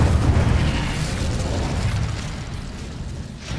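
Fiery blast of the Incendio spell in Hogwarts Legacy on Switch 2, a dense roaring burst that fades slowly over a few seconds, loud and without talk.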